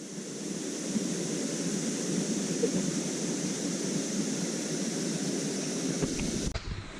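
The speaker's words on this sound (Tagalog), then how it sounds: "Wala kayong ibang maririnig dito, lagas-las ng tubig" Rushing, babbling stream water among trees, a steady broadband wash that stays even throughout, close and fairly loud, with a brief knock near the end.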